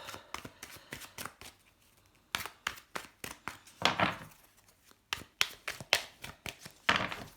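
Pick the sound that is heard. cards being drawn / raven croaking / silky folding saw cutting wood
cards being drawn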